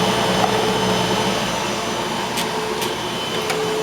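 A big, bulky Eureka Boss Smartvac 4870 upright vacuum cleaner runs steadily, a loud close motor drone with faint clicks and rattles of debris as it is pushed.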